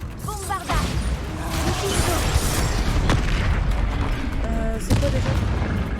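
Spells go off in a Hogwarts Legacy arena battle, heavy booms and mechanical clanks overlapping in a loud, busy, continuous clash with a few sharp impacts punching through.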